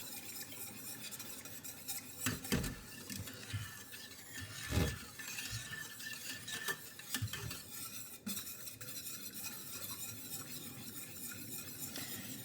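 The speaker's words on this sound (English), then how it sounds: "So I'm gonna start stirring this, get all those ingredients so that everything's all meshed together." A utensil stirs BBQ sauce ingredients in a pot, producing soft scraping and occasional knocks against the metal, with a few louder clanks early on and a quieter steady swirl afterward, close and without talking.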